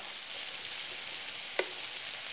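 Turkey meatballs frying and browning in a pan: a steady, close hiss of sizzling oil throughout, with one brief utensil tap partway through and no voices.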